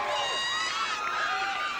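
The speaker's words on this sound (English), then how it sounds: "Great crowd of young high school fans in the Dome tonight cheering on CNS." Young high school fans cheering in a domed stadium at a 1994 football championship, a dense, distant wash of high-pitched shouting and whooping, steady and fairly faint throughout.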